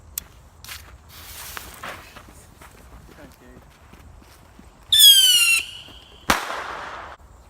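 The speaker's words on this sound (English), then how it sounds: "We have a couple fireworks." A small handheld firework is thrown outdoors, letting out a short shrill whistle, then a sharp nearby bang with a fizzing, crackling tail, while people talk around it.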